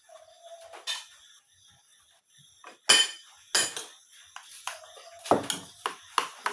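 A metal utensil clinks and scrapes against a pot while rice is mixed, with irregular sharp pings and knocks, some louder strikes, and quiet gaps between them.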